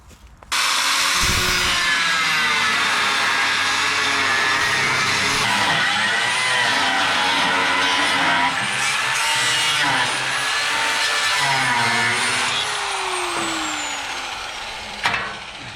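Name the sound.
power tool cutting off metal hangers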